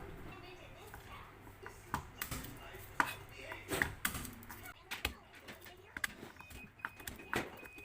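Garlic being chopped on a cutting board in a home kitchen, a run of sharp, uneven knife taps close by, some in quick bursts, with faint talk and kitchen noise underneath.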